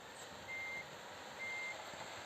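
A Mercedes Actros truck in Truck Simulator Ultimate sounds two evenly spaced reversing beeps over a steady engine hum, clear but moderate in level, with no talk.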